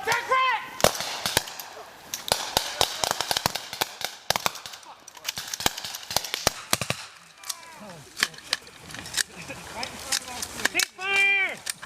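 Rapid bursts of gunfire crack through a US Marines CBRN defense training exercise, some shots in quick machine-gun-like strings and others single, with shouted voices of troops between and over the shots.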